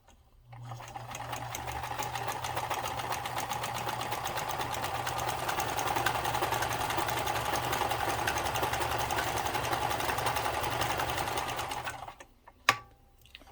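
A Kenmore 158.13400 sewing machine stitches through eight layers of cotton fabric, a steady close motor whir with rapid needle chatter running continuously for about twelve seconds before stopping with a sharp click.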